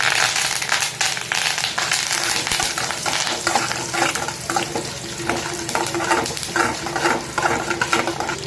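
Curry leaves, mustard seeds and dals fry in hot oil in a pan, giving a continuous loud crackling sizzle with sharp pops, close by and with no talking.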